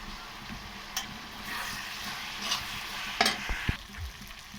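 Spices for a country chicken curry sizzle in hot oil, with steady frying crackle and a few sharp clinks and scrapes of stirring near the end.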